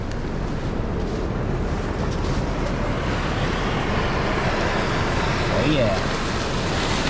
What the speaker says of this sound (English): Look at this glacial flow coming out to look at the swell coming out to meet the ocean.